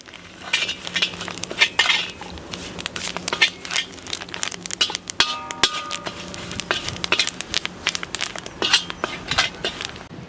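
Garam masala and coriander powder frying lightly in oil for a wedding-style chicken gravy, with repeated metal spoon scrapes and clinks against the pan over a soft sizzle.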